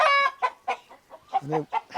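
A black Kadaknath (karinkozhi) chicken clucks in a series of short, close, throaty bursts with brief pauses between them.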